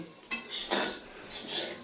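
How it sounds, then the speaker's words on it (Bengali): Flattened rice (chira) being fried and stirred in a pan on a stove, heard as a few close metallic scrapes and rustling strokes of the stirring utensil, with no talk. "এক চুলায় চিরা ভাজা হচ্ছে আর আরেক চুলায় গুড়ের শিরা করা হচ্ছে"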